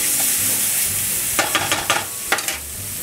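Whole grain mustard, similar to Dijon, stirred into a hot pan for New Orleans BBQ shrimp, giving a steady close sizzle with several sharp scraping taps of a utensil partway through.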